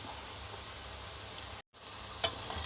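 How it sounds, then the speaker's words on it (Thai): Curry paste and minced pork sizzle steadily in a hot pan as they're stir-fried, a dense continuous hiss with a brief break and a small clink of the spatula, close up and with no talking. "เราก็ผัดพริกแกงเลยครับ ผัดให้มันเดือดเดือด"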